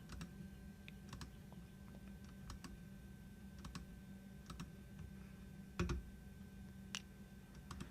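Typing on a computer keyboard with mouse clicks while working in Houdini software, soft close scattered key taps and clicks over a faint steady hum, no speech.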